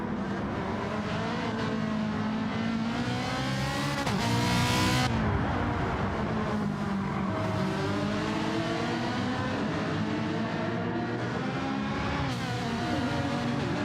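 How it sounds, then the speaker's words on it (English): Ferrari race car in a racing game at the Nürburgring Nordschleife: a loud, continuous engine note that climbs and falls through gear changes, close and dominant throughout with no talk. "Captain Muffin still looking a bit frustrated by this cracking Ferrari in front of him"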